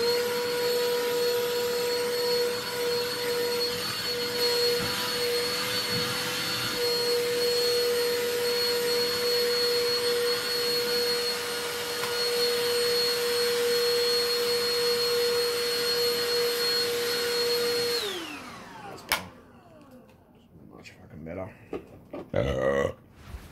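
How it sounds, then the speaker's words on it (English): A vacuum cleaner runs steadily at close range over carpet, a loud continuous whine with a steady tonal hum, then shuts off and leaves a few clunks and handling noises. "I had to just had to vacuum down there"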